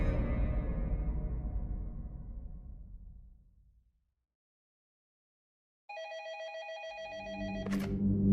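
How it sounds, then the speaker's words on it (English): A telephone rings in a detective's office, its bright, repeated bell tones arriving suddenly after a fading low rumble and a stretch of silence, with a deeper tone swelling underneath near the end. "when his phone rang"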